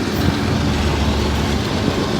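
A long freight train, at least 1.5 miles, passes close by in the rain with a steady, loud rumble and roar that holds even throughout.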